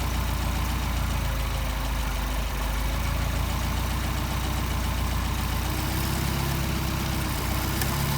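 A Mercedes-Benz 190SL four-cylinder engine fitted with Solex carburetors idles steadily at close range, a continuous loud rumble with a faint shift in pitch partway through, no voices.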